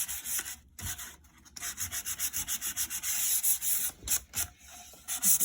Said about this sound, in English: you might just want to sand the edges of the raw wood